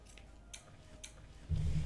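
Scissors cutting a stretchy t-shirt's fabric: two crisp snips spaced about half a second apart over quiet room tone, followed by a louder low rustling thump.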